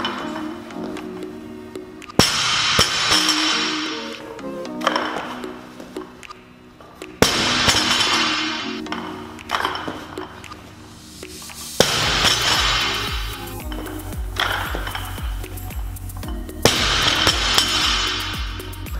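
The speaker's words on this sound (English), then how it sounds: "Most people are not gonna just drop them on concrete" RepFitness competition kilogram bumper plates dropped repeatedly, each drop a loud, sharp impact followed by a brief ringing rattle, several heavy thuds spaced a few seconds apart with no talking.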